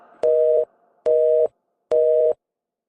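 A telephone sounds its tone right after a call is hung up: three identical loud beeps in an even rhythm, each about half a second long, separated by short silences, with no voices.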